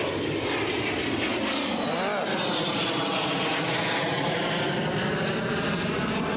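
Business jet departing the runway at Newcastle airport, a steady broad engine roar filling the whole stretch, loud and continuous with a faint rising whine, heard from an outdoor spotting position.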